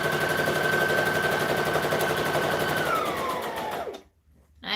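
A sewing machine runs a long stitch length with its tension unchanged, producing a fast, steady mechanical whir close up that winds down and stops near the end, followed by a brief restart.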